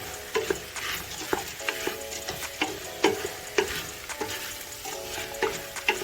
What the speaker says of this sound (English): so I've added my 2 cups of lentils. Give all of that a really good stir.